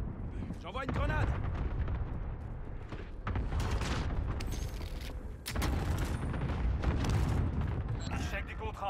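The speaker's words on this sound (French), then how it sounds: "Frappe à dispersion alliée imminente. J'envoie une grenade." A grenade goes off in a video game with heavy rumbling blasts that rise and fall in several waves over a few seconds, mixed with voices talking.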